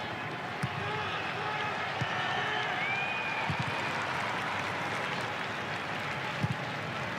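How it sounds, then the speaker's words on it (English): Stadium crowd at an A-League football match between Western Sydney Wanderers and Melbourne Victory applauds steadily, a broad continuous wash of clapping and crowd noise in the background with occasional thumps. "Now the applause you can hear in the background"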